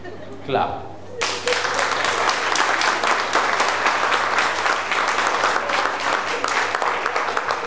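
Church congregation clapping steadily at a prophet's service, a dense wash of applause starting abruptly and continuing loudly throughout after a brief voice at the start.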